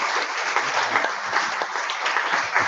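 Applause for a guest speaker at a conference on why birds sing, a dense, even patter of many hands clapping, moderately loud and sustained without pause, no voices on top.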